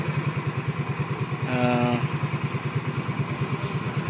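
A Hero Maestro scooter engine runs after a half-engine repair, with a fast, even putter of firing pulses close by. A brief whine rises over it midway.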